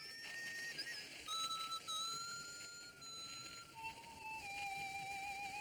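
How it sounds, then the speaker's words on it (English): A lone man whistling a slow, wavering tune of sustained notes, faint and somewhat distant over a low background hiss. "It was a man's whistling."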